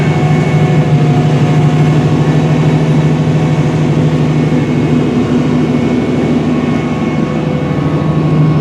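A Challenger tractor with a CVT transmission drives across a field while planting corn, its heavy engine droning loud and steady with a constant low hum throughout, no voices.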